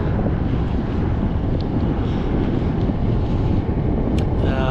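A southwest headwind roars against a cyclist riding in aero position on aero bars along the Oregon coast, a loud, continuous buffeting rumble across the microphone with no talking.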